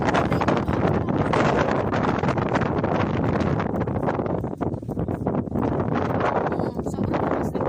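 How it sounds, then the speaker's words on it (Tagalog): Strong wind buffets the microphone outdoors near a house, a loud, continuous rumbling roar with gusty surges and no voices. "Sobrang lakas ng hangin."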